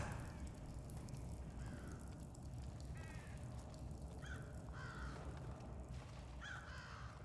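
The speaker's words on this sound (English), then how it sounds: "It's the birds." Crows in the stealth game Thief caw several times against a steady hiss of background ambience. The calls come in short raspy bursts, each a few caws long, from a moderate distance with gaps between them.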